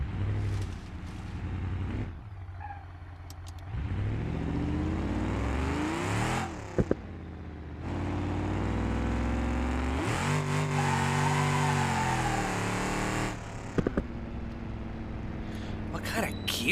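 A car engine in the BeamNG.drive driving game repeatedly bounces off the rev limiter at high revs, with loud sustained bursts broken by short drops and gear changes over several seconds, while a person talks over it.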